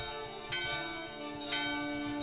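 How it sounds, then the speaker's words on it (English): A doorbell in Final Fantasy IX rings twice, two bright chimes about a second apart over a steady game soundscape, with no talking. "Alright, ring-a-ring the doorbell."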